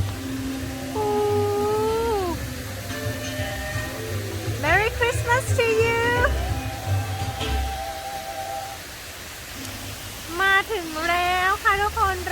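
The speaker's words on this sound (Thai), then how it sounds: "มาถึงน้ำตกกันแล้ว" A waterfall rushes with a constant broadband roar in the background while someone talks over it in bursts, the water noise steady and moderately loud throughout.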